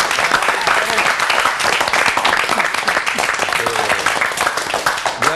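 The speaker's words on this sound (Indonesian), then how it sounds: "Sebelum kita komen, kita beri tepukan" Applause from a television singing-competition audience, a loud, dense, sustained wash of many hands clapping for several seconds, with faint crowd voices mixed in.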